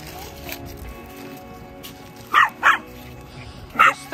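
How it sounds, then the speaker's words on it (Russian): A dog barks outdoors in three or four sharp, fairly close barks spaced apart, over a faint background murmur. "Чего ты разгавкалась на них, а?"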